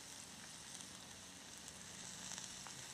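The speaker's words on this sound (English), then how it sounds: "You can hear it sizzling away there a little bit." Beef fat rendering into tallow sizzles softly in a pan, giving a faint, continuous crackling hiss with small pops scattered throughout.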